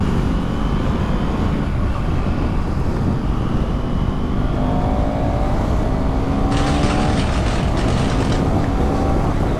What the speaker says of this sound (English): Oh, I guess it's a flyby.